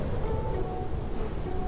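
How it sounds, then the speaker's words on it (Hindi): Steady rain pouring down in an animated story scene, a dense, even hiss with no pauses and no distinct drops, fairly loud and close. "ये बारिश तो रुकने का नाम ही नहीं ले रही है"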